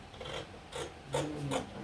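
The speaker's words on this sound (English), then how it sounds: "So I'll cut the keyhole first." Scissors cut through fabric to form a keyhole opening on a sewing pattern, a few soft close raspy snips in quiet succession.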